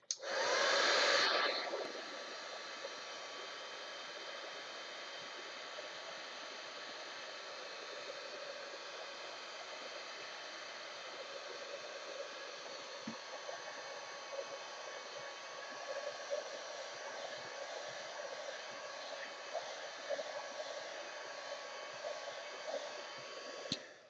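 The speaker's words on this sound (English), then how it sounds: "So let's heat that and see what it looks like." A heat gun runs continuously while drying a mixed media art journal page, a steady airy hiss with a louder burst at the start, heard with no talk.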